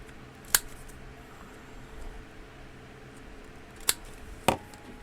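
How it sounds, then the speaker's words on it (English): Three sharp, brief snips or clicks of a paper trimmer cutting paper for junk journal tags, spaced apart over a quiet hum of room noise. "I think I want to trim off a little bit on the top."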